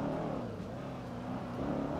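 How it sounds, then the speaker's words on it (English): A modded Charger in GTA 5 revs its engine with a deep, continuous rumbling roar that swells and eases, loud and close throughout. "You say you like the sound of the engine?"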